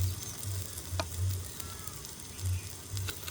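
Gundu dosa (paniyaram) batter fries in oil in the hollows of a paniyaram pan, a soft, steady sizzle with faint crackles and a few low bumps, heard up close without talk.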